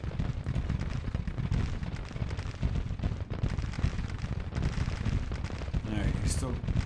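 Whitworth rifles firing in a Civil War battle in Grand Tactician, a dense continuous rattle of gunfire and distant booming volleys, loud and unbroken throughout.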